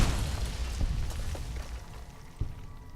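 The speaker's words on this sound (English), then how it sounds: "there sure as hell is something in this room that explodes" Frag mine explosion in a room in Fallout: New Vegas, a heavy boom at the start that rumbles and decays, followed by scattered pops and a smaller thump.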